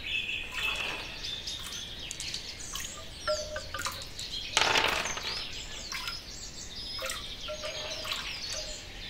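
Several birds chirp and whistle in short, bright, repeated calls against a soft background of dripping water, close and clear, with a brief louder splash midway.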